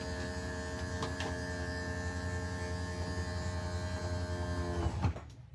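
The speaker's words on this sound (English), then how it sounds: "You can hear the motor." Electric motor of an RV slideout extending, a steady close whir with a continuous hum that holds for several seconds before stopping abruptly.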